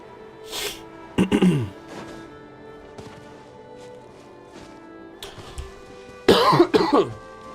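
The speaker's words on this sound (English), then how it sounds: "Guys, is it loud when I cough?" Two sharp coughs, one early and a heavier one near the end, from a person close to a microphone during a live game stream, with quiet room tone between them.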